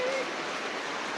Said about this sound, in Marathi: आणि किती पाऊस पडते बघा.